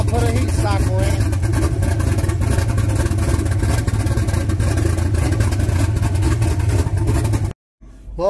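A turbocharged 5.3 engine runs steadily through a heat cycle, a loud continuous idle with rough clatter and slight revving that holds for about seven seconds before cutting off abruptly, then a brief return of sound at the end.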